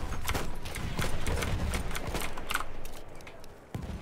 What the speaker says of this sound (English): Wait, did I just kill a horse with a flare?